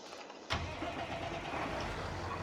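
A new tractor's engine cranks and catches in the farming video game Farming Simulator 22, then settles into a steady, loud mid-pitched idle with no talk.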